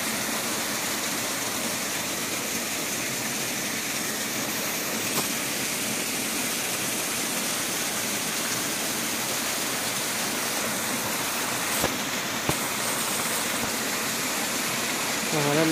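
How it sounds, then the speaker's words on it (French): Water pours in a steady, loud, unbroken rush down a stream among frozen stalagmites, close to the microphone, with a couple of faint knocks partway through. "là il y a l'eau qui tombe"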